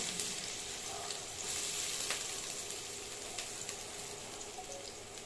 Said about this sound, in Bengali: পেঁয়াজ কুচিটাকে ভেজে নেব।